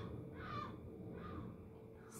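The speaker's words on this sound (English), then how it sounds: "Such a dramatic seagull." A seagull calls twice, harsh drawn-out cries spaced about a second apart, faint against a low background rumble.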